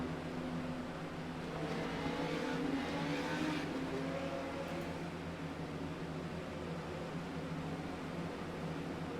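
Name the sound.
Legend race cars running behind the pace car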